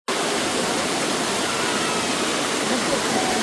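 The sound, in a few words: waterfall in Araku Valley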